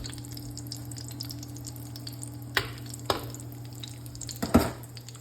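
Chicken cutlets fry in oil in a pan, a soft continuous sizzle broken by a few sharp scrapes and clacks as pieces are moved around; no one speaks.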